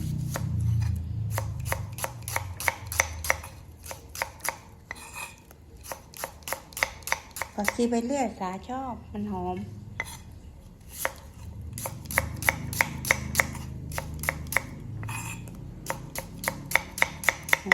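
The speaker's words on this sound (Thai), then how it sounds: "หั่นหอมก่อน" Rapid knife chopping of shallots on a cutting board, steady and close, pausing briefly while someone speaks, then resuming in quick runs of strokes.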